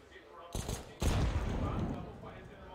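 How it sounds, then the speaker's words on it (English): A grenade blast in the Counter-Strike match on the Train map, heard as a sharp explosive burst followed by a second, louder boom with a rumbling tail, set within steady game noise. "Good nade onto Gade."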